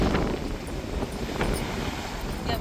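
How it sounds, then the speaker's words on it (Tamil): Strong cyclone wind roars over the sea off a coastal village, a dense, gusting rush that buffets the microphone throughout, with no talking. "அடித்த காற்று கடல் மேலே எவ்வளோ கடுமையாக இருக்குது பாருங்க"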